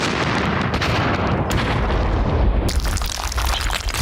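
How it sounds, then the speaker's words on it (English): A cartoon explosion booms and keeps blasting in a loud, continuous burst, with a sharper renewed blast partway through and no talking. "he got served with an explosion"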